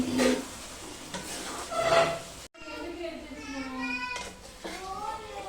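Chicken fry is stirred in a pan, with soft scraping and a gentle sizzle close by; the sound breaks off briefly midway and resumes with a voice talking over it.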